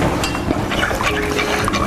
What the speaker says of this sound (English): Now I'm going to add just that water,